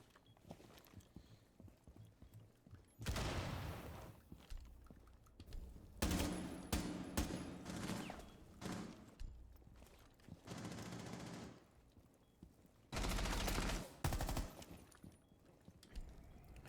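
Gunfire in a competitive shooter video game comes in four separate rapid bursts, fairly faint, with quiet gaps between them.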